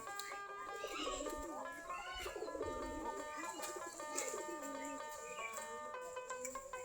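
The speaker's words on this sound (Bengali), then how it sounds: "আমাদের দেশি গিরিবাজ কবুতর সব।" Local Giribaz pigeons coo repeatedly around their outdoor coop in a windy yard, a layered chorus of soft throaty calls mixed with faint chirps, moderately distant and continuous.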